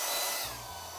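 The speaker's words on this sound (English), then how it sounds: "So I might just dry it a little bit more with the dryer." A hair dryer blows close and steady over paint on a gel plate, a broad rushing whoosh that eases slightly in pitch partway through, with no voices.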